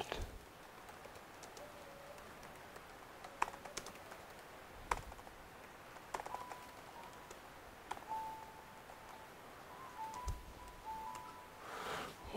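Keys tap irregularly on a Razer Blade 15 laptop keyboard, 2020 model, with sparse, soft clicks scattered over a faint hiss and a quiet background tone, no voice heard.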